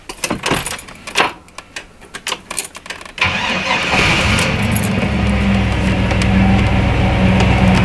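A school bus converted into a camper is started with the key: keys jangle and a starter clicks and whirs in bursts before the engine catches and settles into a loud, steady idle.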